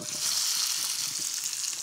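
Freshly cooked agnolotti land in sizzling burnt butter with sage and chilli flakes, giving a brief, close, bright hiss of frying that holds steady with faint stirring underneath.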